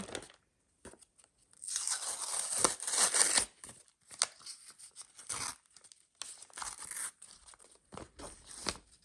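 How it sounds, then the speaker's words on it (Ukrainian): Close crinkly paper tearing in a long rip, followed by several shorter rustles and crackles as the packet is pulled open. "Давайте відкриємо цей пакетик."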